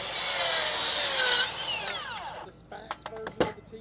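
A Makita XGT 40V GSR01 cordless circular saw whines at high speed as it cuts through wood, then winds down with a falling pitch, followed by a few light knocks and clatters.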